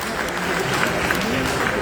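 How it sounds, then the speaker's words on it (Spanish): A church congregation applauds, a dense steady wash of many hands clapping together, loud and close, filling the whole short moment. "Un aplauso al Señor por aquellos que lo tienen."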